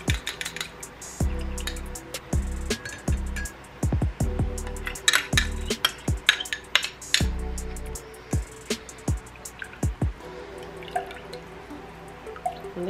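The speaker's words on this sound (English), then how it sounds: "what I'm going to do is strain that into my strainer" Hot ginger, cinnamon and grapefruit drink poured through a strainer, heard as a rapid run of close, crisp drips and liquid splashes with a few light clinks, loud and irregular, with no talking.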